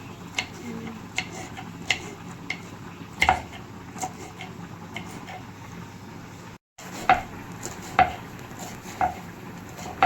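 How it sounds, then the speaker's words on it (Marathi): A knife chops green chillies on a board at home, giving sharp, evenly spaced taps close by. There are a few light clinks and a brief gap partway through, and no one speaks. "मी नवीन स्टाईलने मिरची कापणार आहे बघा"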